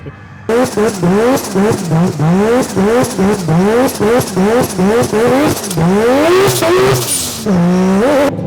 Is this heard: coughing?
no